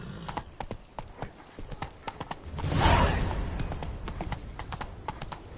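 Roach, Geralt's horse in the video game The Witcher 3, clip-clops along in a quick steady rhythm of hoofbeats close by, with a brief swell of breathy noise in the middle and no speech.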